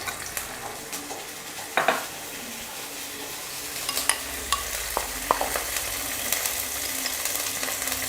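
Ginger fries in oil in a pan for chilli gobi, a soft steady sizzle broken by sharp clicks and scrapes of a spoon stirring against the metal.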